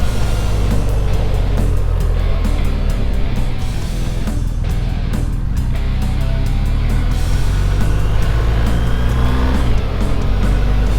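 BMW GS motorcycle on a hot-morning ride, a continuous loud engine drone with wind buffeting across the whole stretch, no pauses or let-up.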